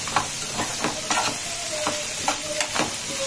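Okra and tomato curry frying in a pan with steady crackling sizzle, broken by repeated scraping strokes of a spoon as it is stirred.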